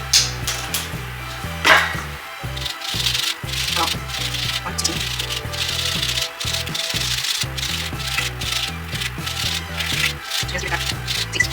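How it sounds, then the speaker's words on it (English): A lemon is zested against a grater in rhythmic, scratchy rubbing strokes, close and steady for the whole stretch with short gaps between strokes. "And then I'm just gonna zest a little bit of lemons."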